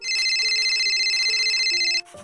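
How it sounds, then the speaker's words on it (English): A phone that was taped to a ceiling rings with a steady, bright electronic trill, loud and close, running continuously for about two seconds before it cuts off. "The phone rang."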